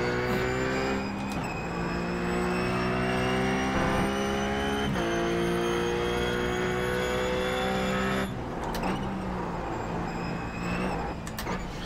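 Simulated RUF race car engine from iRacing at Imola, droning loud and steady with sustained high revs, brief dips at gear changes and a sharp shift near the end, with no voices.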